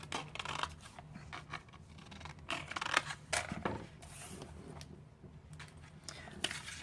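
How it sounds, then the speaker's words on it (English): Scissors snip the corners off a 6x6 paper card cover for a Halloween project, giving a string of close, crisp cuts and paper scrapes, with faint talk in the background. "And I'm going to go ahead and cut my corners."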